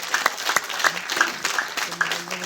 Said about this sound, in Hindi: जरा एक बार दोनों हाथ वालों का जौहर भाई के तालियां बजा दीजिए